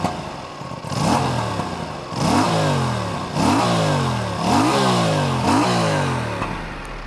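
An Aprilia Tuono 457 Special Edition motorcycle engine revs hard in five repeated bursts, each climbing sharply and then dropping back to idle, loud and close.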